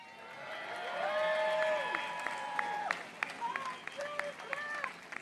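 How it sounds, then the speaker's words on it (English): A crowd applauds U.S. President Donald Trump at an event addressed by U.S. envoy Steve Witkoff: steady clapping and crowd noise that swells after the first second, with sustained tonal calls or whistles riding above it. "They applauded U.S. President Donald Trump, and some booed Prime Minister Benjamin Netanyahu"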